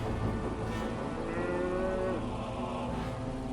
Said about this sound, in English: out of the river there came up 7 cows, sleek and fat, and they grazed among the reeds